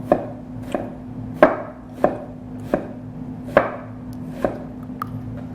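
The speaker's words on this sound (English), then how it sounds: "Then you rough chop." A knife rough-chopping an onion on a board, about eight crisp, evenly spaced thuds, close and clear with a faint steady hum beneath.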